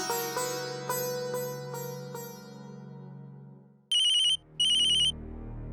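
A phone rings with two loud electronic bursts, following a fading musical tone with a few struck notes.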